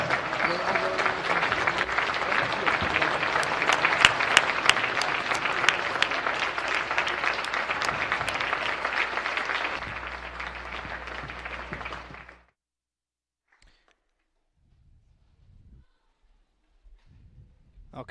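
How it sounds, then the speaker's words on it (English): Crowd applause at a girls' high school basketball game, honoring four seniors. Loud, sustained clapping from the stands fills the first twelve seconds, then cuts off abruptly to near silence. "let's give these 4 seniors one final round of applause"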